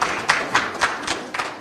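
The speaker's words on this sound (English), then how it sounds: "Let's give them another round of applause." A meeting audience claps in a soft, steady rhythm of a handful of evenly spaced claps, somewhat distant and muffled, with no voices over it.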